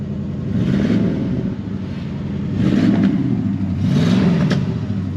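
A 1965 Ford Fairlane 500 engine running close and loud, a steady mid-pitched rumble with a few gentle rises in revs and no talking.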